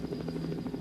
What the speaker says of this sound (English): I'm flying the helicopter now using the mouse, and that's one of the enemy helicopters.